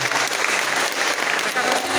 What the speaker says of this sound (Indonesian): Tepuk tangan untuk Kakak Gusti.